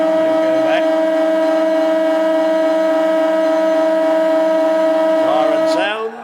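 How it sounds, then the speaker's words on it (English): A loud, sustained siren sounds at a reserves grand final football match between Old Scotch and Evandale, holding a steady tone for about six seconds before cutting off, with crowd noise beneath and a brief rise near the end. "Siren sounds to end the quarter."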